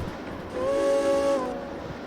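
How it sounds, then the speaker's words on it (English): Steam locomotive whistle in the Derail Valley train game: a single sustained harmonic blast of about a second, loud and clear, swelling in and cutting off over a low rumbling background. "Can't beat a good old steam whistle"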